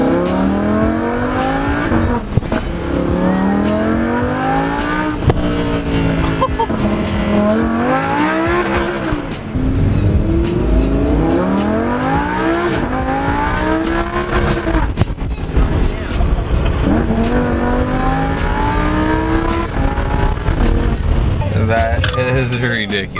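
Lamborghini Huracan engine revving hard while driving, its pitch climbing and falling in repeated sweeps across gear changes, loud and close throughout, with people talking and exclaiming over it.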